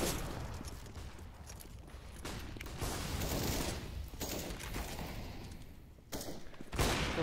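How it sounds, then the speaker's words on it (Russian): Gunfire bursts in a Counter-Strike match on the Mirage map at a professional tournament, dense rapid shots and crackle continuing throughout, with a louder spike near the end. "Крипл уже по своим стреляет"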